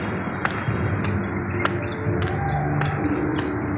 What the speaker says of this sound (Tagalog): Ayun yung mga kalapati.